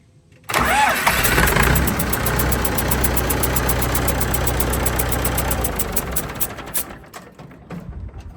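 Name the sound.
Massey Ferguson 180 diesel tractor engine cranking and starting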